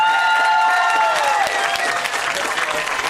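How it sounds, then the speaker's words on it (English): A crowd at a high school football game ceremony applauds steadily for inductees to a wall of achievement. The clapping is dense and continuous, with a faint whistle-like tone fading early on. "One more quick round of applause for our 3 Wall of Achievement inductees."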